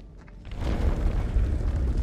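A deep underground earthquake rumble in the horror game House of Ashes swells from quiet into a heavy, sustained low roar lasting a couple of seconds.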